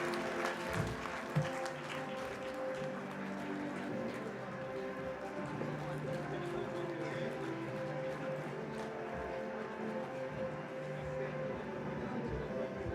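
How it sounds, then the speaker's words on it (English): A convention audience at a Y's Men International regional gathering in South Central India claps in a steady, dense patter of applause, while a voice speaks over it. "Please give them a big round of applause."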